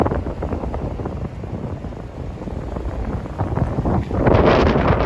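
Wind gusts across the microphone on a street in SoHo, New York City, a continuous low rumbling buffet that swells and roars louder near the end, with no voices.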